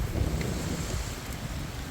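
Wind of an approaching rain storm blows steadily across an open rural spot, a dull, even rushing buffeting the microphone with low rumble, fairly faint and unbroken by voices.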